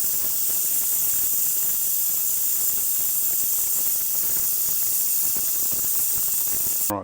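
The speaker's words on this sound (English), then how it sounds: "just our ultrasonic cleaner, a little bit of morning fresh for good measure. And we'll just give this a 5-minute run" An ultrasonic cleaner with dish soap in the bath cleans fuel pump parts, giving a constant shrill, hissing whine with a faint bubbling crackle, steady and close until it cuts off at the end.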